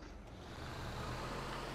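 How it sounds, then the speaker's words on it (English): Garbage truck in Grand Theft Auto V, a steady low engine rumble and broadband road noise, faint and continuous with no talk over it. "Okay, get in the garbage truck"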